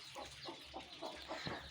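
A hen and her newly hatched chicks on a village farm, with soft clucking and cheeping in a quick repeating rhythm, faint and close, with no talk.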